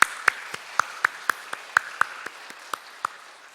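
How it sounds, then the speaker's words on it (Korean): A church congregation claps during an Easter service, sounding as a dozen or so separate, evenly spaced sharp claps rather than a dense roar, moderately loud and alone without talk. "모든 일을 이루신 우리 주님께 영광의 박수 한번 올리도록 하겠습니다"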